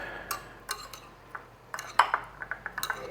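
Chopped fresh basil and other ingredients are stirred in a bowl with a utensil, giving irregular clinks and scrapes against the dish that grow denser and quicker toward the end, close and fairly quiet.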